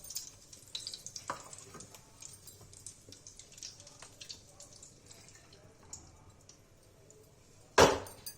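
Eggplant crackles in hot oil in a pan with the heat lowered: soft, steady sizzling and small pops throughout, then a sudden louder splash near the end.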